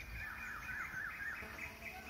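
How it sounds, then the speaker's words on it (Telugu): Birds chirp and trill repeatedly outside a house on a calm day, forming a steady, moderately distant chorus of high calls over low background hum, with no talk. "పక్షులు శబ్దాలు అయితే వినిపిస్తున్నాయి"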